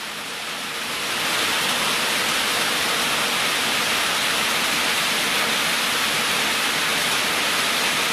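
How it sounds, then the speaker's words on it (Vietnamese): Heavy rain pours down at a fishing pond in rural Vietnam, starting lighter and then swelling after a second into a loud, dense, unbroken roar of water. "Lại mưa to rồi anh em ạ."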